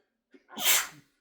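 A single human sneeze, close and fairly quiet, opens with a short sharp intake of breath and then releases in one forceful burst, with silence before and after.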